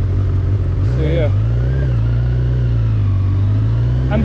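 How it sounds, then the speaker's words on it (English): A Honda CB1000R motorcycle's 1000cc engine runs steadily at close range, a loud continuous rumble with a brief rev swell near the start and slight pitch shifts through the rest. "And this 1000cc engine."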